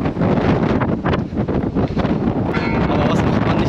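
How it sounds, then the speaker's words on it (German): Strong wind atop Ambuluwawa Tower in Sri Lanka buffets the microphone in a loud, continuous roar with gusty swells, and no clear speech. "Jasmin ist unten geblieben, weil das zu windig war für sie."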